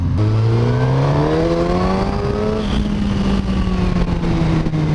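A Suzuki GSX-S 1000 ABS motorcycle engine revs hard through an aftermarket exhaust, its pitch climbing steadily and then holding a loud, close, continuous roar with no talking over it.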